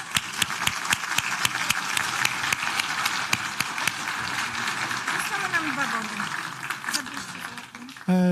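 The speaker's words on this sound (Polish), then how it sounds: "Brawa dla pana profesora." An audience at an award ceremony claps for a professor, a steady patter of applause with distinct close claps, while a voice talks over it near the end.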